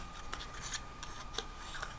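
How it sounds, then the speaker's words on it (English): Paper snips cut through cardstock in a few sharp, crisp snips spaced about half a second apart, close and fairly quiet, with no voice over them. "I'm just going to cut this one out with my paper snips"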